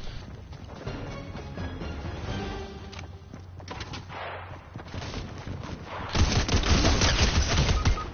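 Rapid bursts of SMG gunfire in Fortnite, loud and close, with a heavier sustained volley near the end over game background sound.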